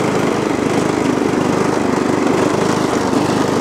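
A John Deere STX38 riding mower engine runs loud and close, a steady unbroken drone with the mower deck not running and the tank nearly out of gas.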